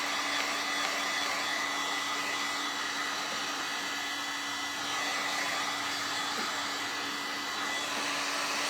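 A handheld heat tool blows hot air to set glue on a wood piece, giving a continuous, even, fan-driven rush with a steady hum, close and unbroken throughout.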